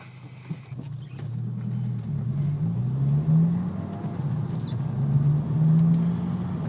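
A car with a muffler-delete custom exhaust accelerates hard in third gear, its loud, raw engine drone rising in pitch, dipping briefly at a shift, then climbing again, heard close from inside.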